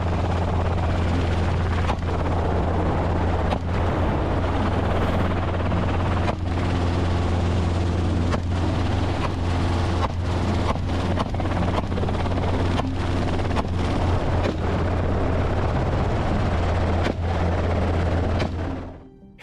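A helicopter used for hunting wild boars thunders steadily overhead, its rotor thudding in a loud, continuous pulse that holds unbroken before cutting off abruptly at the end.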